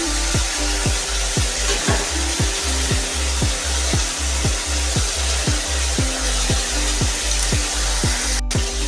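Previously fried eggs go into a pan of cooked spice masala that has released its oil. A steady close sizzle runs throughout, cut by regular rhythmic scraping strokes about twice a second, with no voices.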